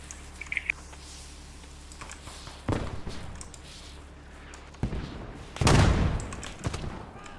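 Gunfire in the video game Squad crackles in a few distinct bursts, one sustained and loud, separated by quieter stretches of faint clicking.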